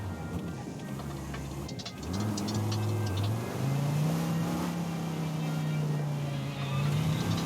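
A Viper sports car driving in the racing game Forza Horizon 5, its engine droning and then rising in pitch as it accelerates, a steady loud revving tone that holds through the second half.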